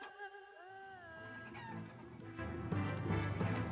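Chickens clucking in the video game Shenmue III, several bird calls with rising and falling tones over a busy game soundscape that grows louder and denser toward the end.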